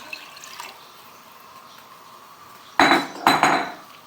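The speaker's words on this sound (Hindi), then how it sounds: "अब मैं इसमें ये पानी डाल रही हूँ।" Water splashes into a cooking pot of meat for nihari in two short, loud pours near the end, after a quiet stretch of faint kitchen clinks.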